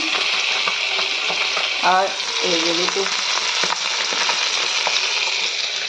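Fish, whole pieces rubbed with salt and turmeric, frying in hot oil in a pan, with a steady loud sizzle throughout and a brief voice speaking over it partway through.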